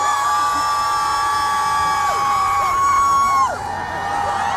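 A crowd at a chrysanthemum festival in Jeongeup, Korea cheers and whoops loudly for a trot singer, high shouts and yells layered over a sustained roar, with faint background music tones.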